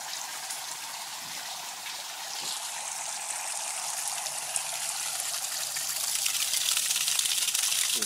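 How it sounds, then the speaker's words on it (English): Water gushes out of an aquaponics grow bed as a bell siphon drains it, a steady heavy rushing stream that grows slightly louder and more forceful over several seconds. "There's the full siphon. Shoots water out pretty quick. It's actually draining the bed"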